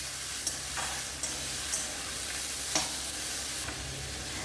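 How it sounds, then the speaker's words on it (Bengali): Onion and tomato fry in a pan for veg Lahori, with a soft continuous sizzle broken by several sharp scrapes and taps of a spoon stirring against the pan, fairly quiet and without talk. "টমেটোটাকে দিয়ে এটাকে ভালো করে ফার্স্টে ফ্রাই করে নেব"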